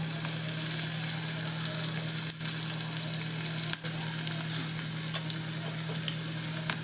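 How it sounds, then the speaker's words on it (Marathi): A tempering of asafoetida and turmeric in hot oil for kadhi sizzles steadily and close by, a constant frying hiss with a low hum beneath and a couple of brief stirring knocks, no one speaking. "हिंग टाकतोय आपण कढीला पिवळा रंग येण्यासाठी आपल्याला त्याच्यामध्ये हळदसुद्धा टाकायची आहे"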